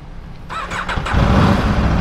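A 2022 Aprilia RSV4 Factory 1100 motorcycle with stock exhaust starting up: a brief starter whir followed by the engine catching into a loud, close, rising roar.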